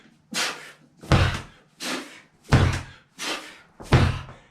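A heavy ball slams onto the floor six times in a steady rhythm, each impact a loud, close thud.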